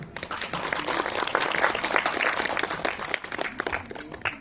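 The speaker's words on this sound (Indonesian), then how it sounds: "Tepuk tangan bersama-sama." Audience applause at a school showcase performance by two vocational and junior high schools in Bandung, a dense, steady clapping crowd sustained throughout, loud and close with no speech over it.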